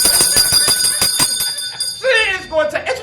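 A bright bell rings rapidly at an event introduction, a run of sharp ringing strikes followed by a voice speaking.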